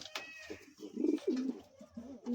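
A pair of king pigeons coo softly indoors in a loft room, several low throaty coos in short bursts, close but fairly quiet, with no talk.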